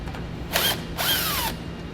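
A power driver whirs twice in short bursts to back out the screws holding a connector on a 2017 vehicle, each burst close and buzzing with a whining spin.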